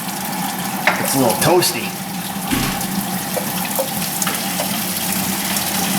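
Coolant pouring out of a Jeep Liberty into a catch pan, a steady splashing, trickling stream with a few clanks of metal, while someone speaks briefly over it.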